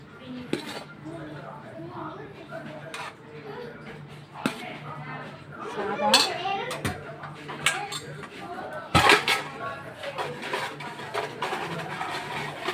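Clinks and scrapes of cutlery and dishes as a home meal of rice with banana-stem dal kootu is served, irregular knocks and taps close by, with a voice talking throughout.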